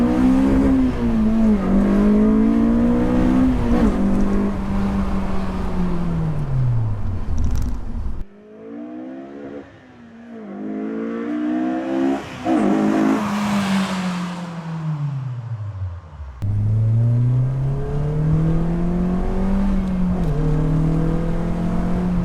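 Honda S2000 fitted with a new loud aftermarket exhaust pulls hard through the gears, engine pitch climbing steadily then dropping at each shift, three rising sweeps of loud, raspy revving with no voices.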